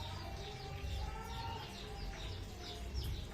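Young chicks peep in quick, high, repeated chirps, faint and close together over a low background hum on a small farm, with no talking.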